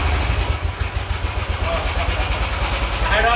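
Dune buggy engine running steadily at low revs in gear, a continuous loud rumble with slight fluctuations and wind noise, no pauses.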